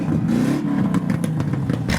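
A Rolls-Royce engine at a car meet, a deep, throaty rumble with uneven pulses and small revs, heard close up from the manifold rather than the exhaust.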